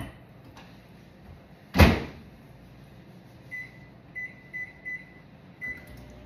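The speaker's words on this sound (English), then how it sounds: "So we're gonna put this in my microwave for 8 minutes" A microwave oven cooks salmon inside a Tupperware Micro Pro Grill, a faint steady hum with a sharp door-like thump early on and several short beeps afterward.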